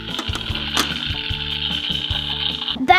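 Steady sizzling and crackling of food frying in a pan, with occasional clinks and stirring sounds close by, in a video game.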